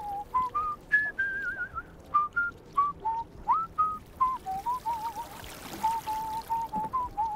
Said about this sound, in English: I'm just gonna whistle to myself for a bit now,